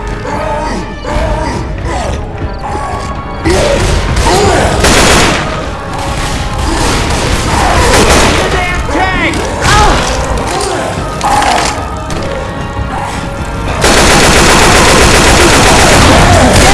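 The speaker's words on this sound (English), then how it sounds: "Just keep shooting!" Loud video game gunfire, with rapid automatic bursts and booming shots packed densely throughout, mixed with game effects and occasional voices.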